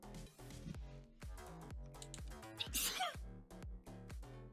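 A single sneeze, a short noisy burst in the middle of a tonal, voice-like stretch, heard fairly close and at modest volume.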